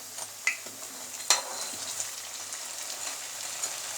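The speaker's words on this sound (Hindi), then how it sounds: "अब मैं सब ऐसे ही फ्राई करके निकाल दूँगी। अब मैं इसे पलट देती हूँ।" Banana pieces fry in a pan of hot oil, giving a soft steady sizzle with a few sharper pops and stirring clinks, heard close and fairly quiet.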